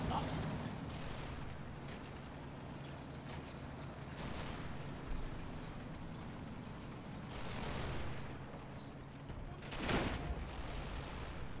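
A company HQ squad fires on a building in the WWII Normandy game Combat Mission: Battle for Normandy, with sporadic distant rifle and machine-gun bursts and heavier thumps over a constant rumbling battlefield background.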